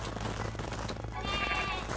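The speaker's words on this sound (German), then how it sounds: "Hier sind schon wieder Schafe drin, die haben ihren Spaß." Sheep bleating in the video game Craftopia, a short wavering bleat or two standing out over a low steady in-game background hum, fairly close and moderately quiet.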